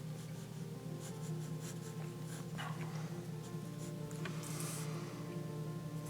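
Pen or marker drawing cartoon turkey feet on paper, quiet close scratching strokes in a series of short bursts over a steady low hum.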